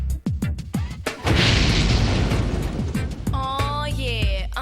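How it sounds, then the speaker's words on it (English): A big gas explosion sound effect: a few sharp thuds and knocks, then a loud booming roar that rumbles and sustains for several seconds before trailing into whistling, screeching tones. "escaping gas can cause a big explosion"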